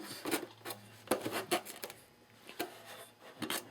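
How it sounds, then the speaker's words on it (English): A long sanding block works a rib on an E-flite PT-19 450 model airplane wing in short, irregular scraping strokes, faint and close, with brief pauses between passes. "I'll take a nice long sander, and without letting the end of the sander pass your rib"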